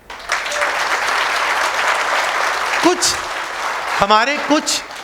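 An audience claps steadily through a talk, dense applause under a few brief spoken exclamations that cut in near the end.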